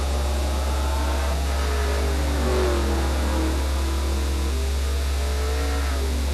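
A race car engine drones and revs in a NASCAR video game race at Monaco, a loud continuous mid-pitched roar with rising and falling pitch sweeps over a steady low hum.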